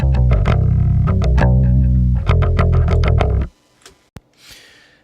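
Heavy metal bass guitar recorded direct, doubled on two tracks and run through amp-simulation plugins, playing a loud, distorted, punchy riff up close before cutting off abruptly, followed by faint handling noises.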